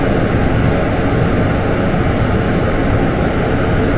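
Solid rocket boosters roaring at lift-off in the video game Kerbal Space Program: a loud, dense, unbroken rushing roar held at full strength throughout.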